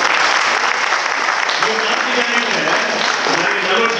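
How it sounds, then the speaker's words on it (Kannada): A crowd at a devotional music program claps for the performing artists, a loud, dense, continuous wash of applause with voices mixed in beneath it. "ಈ ಕಲಾವಿದರು ಜೋರಾಗಿ ಚಪ್ಪಾಳೆ ಕೊಡಿ"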